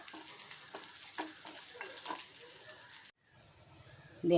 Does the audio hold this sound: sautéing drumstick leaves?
yes